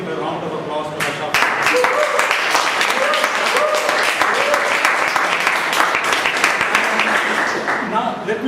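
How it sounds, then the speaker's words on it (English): An audience applauding after a speech, with steady close clapping that swells after the first second and stays at a constant level, while a voice talks faintly underneath. "Can we just give a round of applause to Harsha?"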